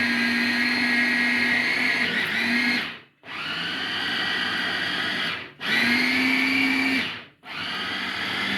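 An electric grinder chops onion in loud whirring bursts, three or four long runs of a high motor whine separated by brief silent pauses, close and without talk.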